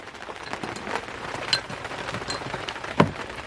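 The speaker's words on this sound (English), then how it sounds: "Because it's raining." Rain patters steadily on a sailboat drifting in calm, windless weather on the Ambracian Gulf, a dense close hiss of drops with a couple of sharper taps standing out.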